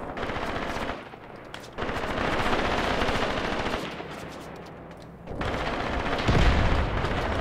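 Tank and gun fire in the Graviteam Tactics Mius war game, a 45mm gun engaging a Panzer IV; steady rattling bursts of machine-gun fire with deeper thumps and a heavy impact near the end, loud and unbroken by talk.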